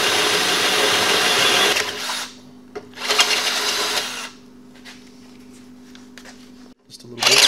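A drill bores a half-inch hole for a switch mount during an air suspension install on a 2017 Harley, whining loudly in two bursts separated by a pause, with a steady low hum underneath.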